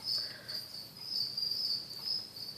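A steady, high-pitched chirping of crickets, with rapid repeated trills continuing throughout at a moderate distance.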